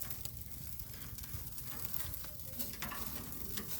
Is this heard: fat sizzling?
yes